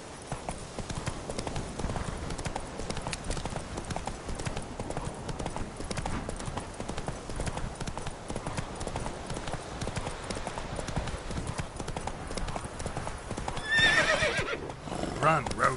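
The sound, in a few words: horse named Roach galloping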